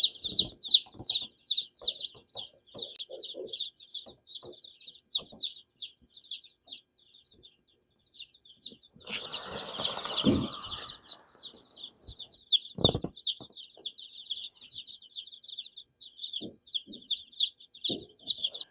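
Newly arrived egg-laying chicks chirp in a rapid, continuous stream of high peeps, close by, with a brief burst of rustling and a few thumps midway before the peeping carries on.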